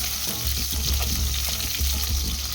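Small bitter gourd pieces frying in oil for shukto give a loud, close, continuous sizzle with bubbling crackle throughout.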